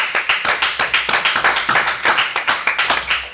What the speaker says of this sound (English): Let us give the Lord Jesus a clap offering.